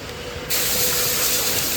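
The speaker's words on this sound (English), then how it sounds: "he's blowing these off as they go. He's got the air hose." An air hose at a crokinole factory blasts dust off board parts, a loud, sharp hiss of compressed air that bursts on abruptly and holds steady, with faint workshop hum beneath.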